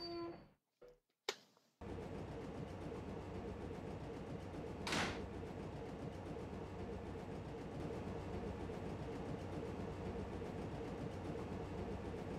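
Class 421 electric multiple unit coming to a stop at a station in Train Simulator 2018: a few brief knocks, then a steady low cab rumble with a short sharp hiss of air brakes partway through, no talk.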